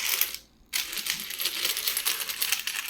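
Indian anna coins jingling and clinking as they are handled, a bright metallic rattle that runs steadily through the moment with a brief silent gap near the start.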